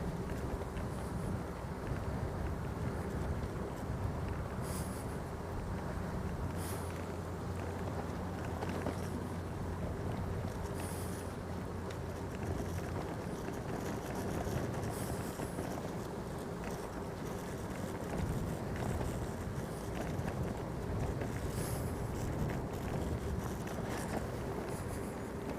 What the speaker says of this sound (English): riding at 20k, you'll have 20 kilometers an hour of wind or of air you're just riding into